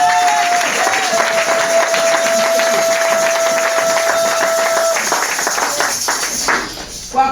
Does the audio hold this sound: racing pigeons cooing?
no